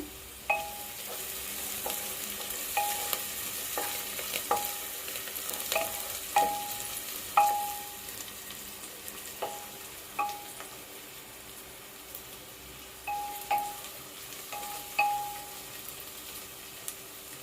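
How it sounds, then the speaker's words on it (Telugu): Onions and slit green chillies fry in a pan, making a soft continuous sizzle broken by repeated light metallic clinks of a spoon against the vessel, with no talking. "ఆనియన్స్ కాసేపు ఫ్రై అవ్వనివ్వాలి"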